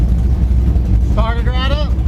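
A small-block Chevy V8 in a Trans Am rumbles loud and close at a steady idle, with a brief high whining cry rising over the engine midway.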